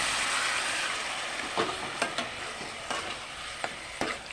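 Ash gourd and lentils stirred into a sizzling spice mix in a pan, a steady close hiss broken by several sharp spatula scrapes and knocks against the pan, no voices.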